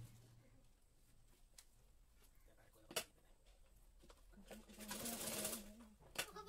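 A sewing machine runs in one loud burst of stitching near the end, preceded by quiet handling clicks and a faint voice, while a 38-inch katori blouse is being sewn.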